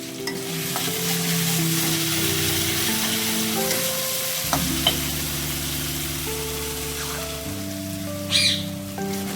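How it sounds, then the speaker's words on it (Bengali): A spice paste of cumin, coriander and chili powder sizzles steadily in a pan while it is stirred, giving an even hiss with occasional scrapes and a constant low hum underneath. "এবার মশলাটাকে ভালো করে কষিয়ে নিতে হবে।"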